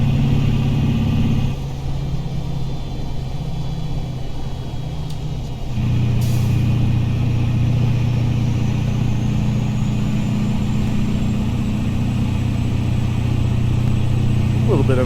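A Kenworth W900A truck engine in American Truck Simulator, laboring uphill with a steady low drone that shifts pitch partway through, loud and continuous.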